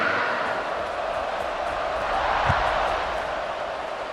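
A football stadium crowd at a Virginia versus BYU game, a dense, steady roar of many distant voices cheering and murmuring continuously, with one brief thump partway through.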